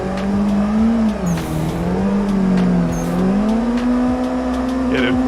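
Engine of a car driven in the racing game Assetto Corsa drones steadily, its pitch wavering up and down with revs and brief tire squeals, while a voice talks quietly over it.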